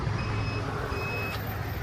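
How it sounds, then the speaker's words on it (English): A 2023 Vitacci Rover electric vehicle's reversing alarm beeps in two long high tones over a low rumble, fairly close and loud. "The only thing I don't like is that stupid beeping noise."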